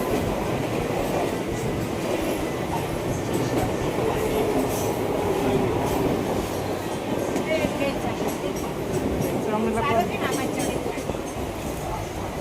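A passenger train runs along the rails in a steady, loud rumble with faint rhythmic clatter and occasional squeal, heard from on board, with people talking now and then.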